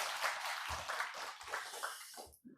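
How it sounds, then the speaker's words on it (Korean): A church congregation applauds to welcome a visiting family, producing a soft, steady wash of clapping that fades out after a couple of seconds. "우리 큰 박수로 환영해 주시면 감사하겠습니다."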